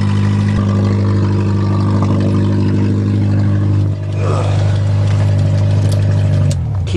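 A car engine running steadily after a cold start on a March day on a farm, a loud close idle with a low droning hum and a small dip near the end, no talk.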